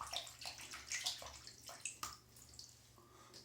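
Water running and splashing in a sink as a razor is warmed under it, soft close trickles and drips with small gurgles, fairly quiet.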